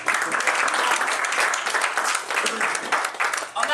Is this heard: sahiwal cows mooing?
no